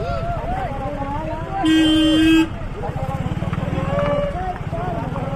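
Traffic on a rough mountain road climbing toward Aaja mountain: a long, steady car horn blast rings out, with engine rumble and scattered shorter toots around it and voices talking over the scene.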